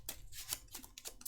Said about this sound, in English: Gonna shuffle it up